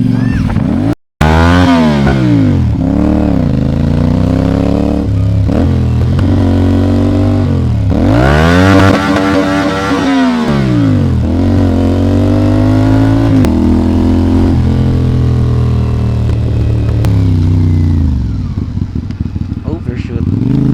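CF Moto 450 SR-S motorcycle on the road, its engine revving up and down through repeated accelerations and gear changes, loud and close, with a brief cut near the start and someone talking over it.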